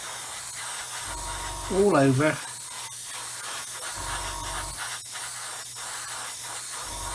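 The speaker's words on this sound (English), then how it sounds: "So I'm just going to lightly spray the engine" Airbrush spraying paint lightly onto a 1/144 scale C-141B Starlifter model engine, a soft steady hiss in short bursts, close up, with a brief voice in the middle.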